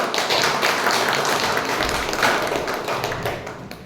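A Toastmasters club meeting audience breaks into steady applause, a dense wash of many hands clapping together that carries on at full strength for a few seconds and then eases slightly toward the end.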